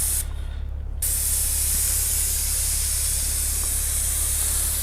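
A paint sprayer lays a solid base coat on a cinder block wall in Central Phoenix, giving a loud, steady spray hiss that dips only briefly at the start before running continuously.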